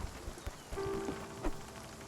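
Rain falls steadily in the video game Spiritfarer, a soft, even patter with a few brief tonal chimes from the game on top.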